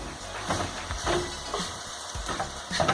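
Farofa with bacon stirred in a pan, spoon scraping repeatedly over a steady background sizzle, close and moderately loud, with no voices.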